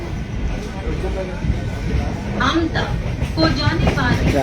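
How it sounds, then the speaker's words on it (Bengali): A local train pulls away from a station platform, a steady low rumble with rising mechanical whine, heard close, with a voice speaking over it. "রেড হয়ে গেল ওইদিকে প্ল্যাটফর্ম ছেড়ে ট্রেন রওনা দিয়ে দিল"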